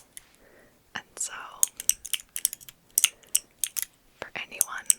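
Typing clicks from a keyboard fidget toy in a close, quiet ASMR setting: bursts of crisp, rapid little taps with short pauses between them, soft and intimate, with faint whispery rustles around them.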